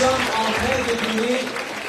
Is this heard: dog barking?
no